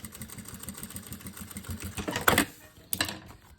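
A sewing machine backstitching a seam on an Easter pouch runs in a fast, even mechanical chatter, then stops, followed by a couple of louder handling clatters close by.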